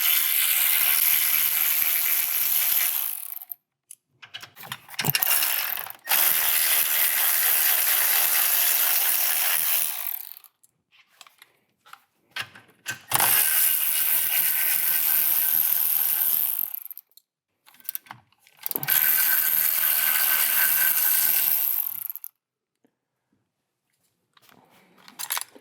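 A ratchet loosening 13 mm sway bar bolts on an Audi D4 A8/S8, rapid clicking bursts of several seconds each, separated by short pauses, close and alone.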